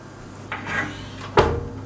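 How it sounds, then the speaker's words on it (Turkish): A salmon dish goes into a home oven, marked by a soft rub or slide and then a sharp knock like an oven door or rack closing, close by and fairly loud over a quiet background hum. "Hadi fırına koyalım bunu."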